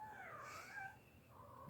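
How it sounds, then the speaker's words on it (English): Several cats meow in a room, with a couple of drawn-out, wavering cries that are faint and distant, and no one speaks over them. "these cats are losing their minds"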